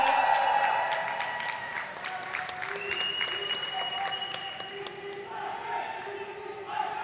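Arena audience at a Valorant India Invitational esports semifinal applauds and cheers for Boom Esports, a dense, steady wash of clapping with some shouts, loudest at the start and tapering slightly while continuing throughout.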